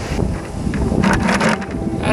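Wind and rough ocean surf on the California coast, a steady broadband roar with gusty swells rising in the middle, close and fairly loud, with no talking.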